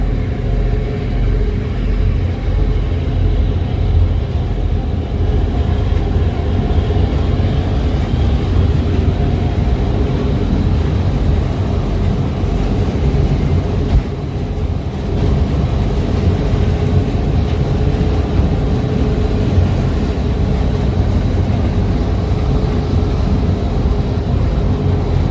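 Steady, loud low rumble from an NYC Ferry's engine on the run from Bay Ridge, Brooklyn, to Manhattan, droning continuously with no talking.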